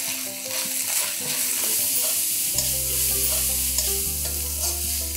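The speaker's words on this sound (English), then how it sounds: "we have to fry this till the raw smell of the ginger garlic is gone" Ginger garlic paste fries in a pan for mutton biryani, giving a steady, close sizzle with scraping stirs, while soft background music plays underneath.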